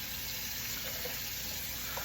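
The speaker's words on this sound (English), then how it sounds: "This is how we wash the dishes." Dishes being washed early in the morning under a steadily running tap, with a continuous water hiss and faint clinks of crockery. No one speaks.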